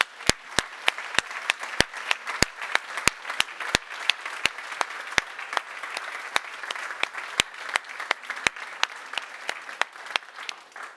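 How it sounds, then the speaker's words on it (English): Audience applause at a tech conference award ceremony, a steady wash of clapping from a medium crowd with sharp individual claps standing out close by, sustained throughout. "Big applause"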